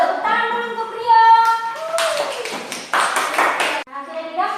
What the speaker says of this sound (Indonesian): Tepuk tangan dulu untuk Rio.